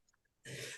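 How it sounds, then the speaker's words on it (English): Coughing and throat clearing at an indoor reseller community event: one dense, harsh burst of close coughing that starts abruptly after near silence and lasts about half a second. "you hear me coughing"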